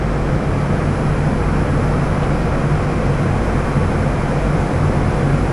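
Twin-turbo Ford big-block engine running hard on a dyno, a dense steady roar that fills the whole clip at constant loudness, with no voices over it.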